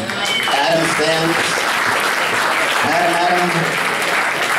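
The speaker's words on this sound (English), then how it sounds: "please give a round of applause to the staff here at the Cutting Room" A concert audience at the Cutting Room applauds the venue staff with a sustained wash of clapping, while someone speaks over it and the crowd cheers.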